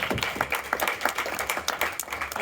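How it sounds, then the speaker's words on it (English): Audience applause at an evening science meetup, a brief spell of quick, moderately loud clapping from a small crowd. "Thank you, round of applause, Brian."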